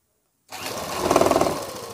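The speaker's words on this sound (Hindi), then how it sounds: "अब इसको डबल सिलाई मार लेंगे" A sewing machine starts after a short silence and runs steadily while double stitching along a sleeve, its fast rhythmic needle chatter speeding up and growing louder midway, close by and without speech.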